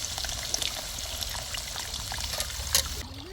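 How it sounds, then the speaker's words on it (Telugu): Tamarind juice poured into a pan of Nellore fish curry makes a continuous splashing, trickling pour that stops abruptly near the end. "కారం వేసి కలిపిన తర్వాత చింతపండు రసాన్ని"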